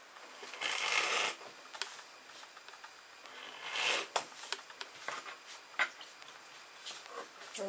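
A cutter slicing through thick fabric, heard as close, rasping cutting strokes in a couple of louder bursts, with lighter scraping and handling noises between, with no talk.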